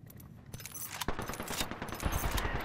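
Rapid video-game gunfire in a battle-royale match, dense overlapping bursts of automatic shots with a sharp louder crack near the middle, continuous and close throughout.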